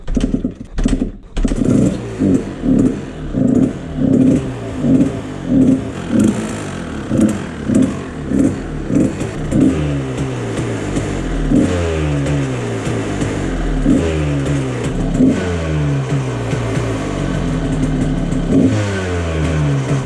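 A two-stroke engine that has been running rich, run with the throttle open: a loud, close, choppy exhaust putters in rapid bursts, with repeated rising revs that surge and fall throughout, no voices.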